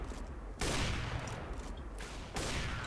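Bursts of gunfire in Counter-Strike: Global Offensive, a dense rattling volley that breaks off briefly and then resumes, fairly loud with no voices.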